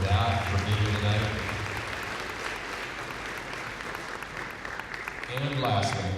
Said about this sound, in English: so I think you can give yourselves a round of applause for that, for being here tonight.